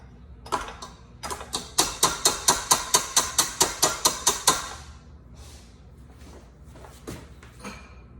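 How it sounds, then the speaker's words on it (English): A stand mixer attachment being switched to the paddle, heard as a quick series of about a dozen evenly spaced sharp metallic clicks or ratchets, followed by scattered knocks and handling noises. "All right, I'm gonna switch to a paddle."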